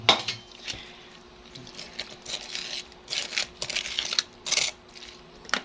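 Nata de coco dropped into a bowl for buko salad: a run of small wet clinks and spoon taps against the dish, uneven and close, growing busier toward the end, no talking.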